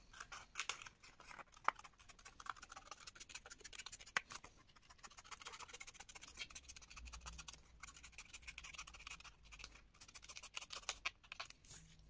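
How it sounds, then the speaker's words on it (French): Scissors snipping around a paper circle for a scrapbooking craft, quiet close-up crisp cuts and light scratchy rustles in an irregular rhythm, heard alone without talk. "vous démarrez ici par couper votre cercle"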